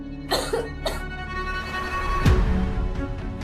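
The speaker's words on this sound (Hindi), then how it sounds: "दूसरी ओर वो सर्दी के मारे खांसने भी लगी थी" A woman with a cold coughs in two short, close bursts, followed a moment later by a harsher cough, over a steady background hum.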